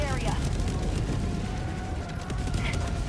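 Air-support bomb strike in the video game Helldivers 2, a dense, sustained roaring rumble of explosions filling the whole stretch, with voices talking faintly beneath.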